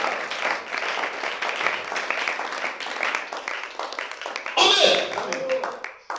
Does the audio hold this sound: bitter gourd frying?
no